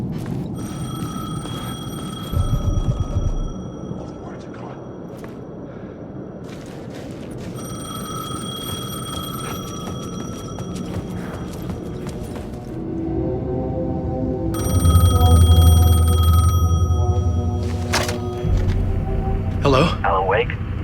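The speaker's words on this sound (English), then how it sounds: "The payphone was ringing" A payphone rings repeatedly in the horror video game Alan Wake 2, bursts of electronic bell ringing separated by pauses, set against a low, ominous ambient rumble and occasional deep booms.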